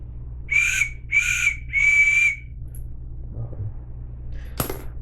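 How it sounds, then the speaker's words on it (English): Three loud, shrill emergency whistle blasts in a steady rhythm, a hiking distress signal, then quiet with a faint clatter and a short sharp noise. "I need help, or I am lost whistle"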